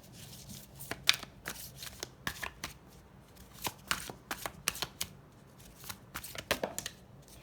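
Tarot cards being shuffled by hand, close and quiet, in a run of crisp riffling and snapping bursts with brief gaps between them.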